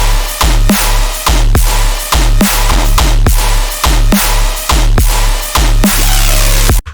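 A punchy bass and drum loop repeats in a steady rhythm: thumping kicks with a deep bass line, loud and upfront, cutting off abruptly at the end.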